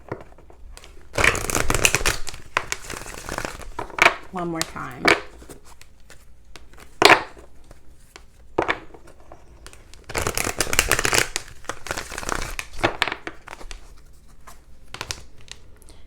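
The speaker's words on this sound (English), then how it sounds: "Let me shuffle and then I'm going to cut the deck and pull." Tarot cards being shuffled in quick riffling bursts, with a short spoken phrase and pauses of quiet handling between shuffles.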